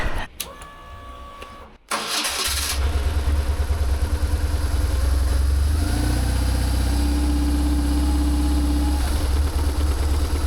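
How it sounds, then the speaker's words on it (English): A BMW R1100 motorcycle engine cranks and catches after a brief quieter stretch, then settles into a loud, steady, close idle whose pitch rises and holds for a few seconds before easing back. "I want to get the bike started."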